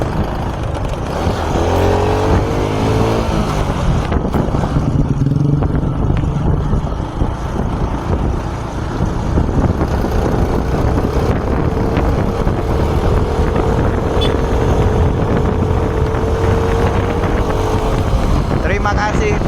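Honda Supra X 125 FI motorcycle with a freshly replaced piston on a test ride, its engine droning steadily with rising and falling pitch under constant wind buffeting, with a voice talking over the ride.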